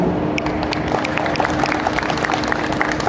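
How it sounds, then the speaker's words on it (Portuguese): An audience at a book fair applauds an author with steady, dense clapping throughout, close and without talk. "recebamos com mais palmas Thiago Cazu"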